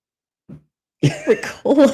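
A soft throat noise followed by a few harsh, close coughs in quick succession.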